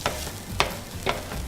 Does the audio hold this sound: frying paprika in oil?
yes